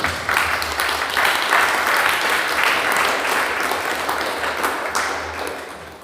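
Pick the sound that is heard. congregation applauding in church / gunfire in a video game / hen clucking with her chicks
congregation applauding in church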